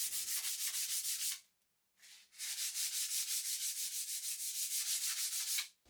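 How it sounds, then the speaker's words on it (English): Rhythmic back-and-forth scratching of hand sanding a primer coat on a wooden bedside table, close and steady, with one brief pause before the strokes resume. "gave the primer a really light sanding just to knock it down before applying my second coat"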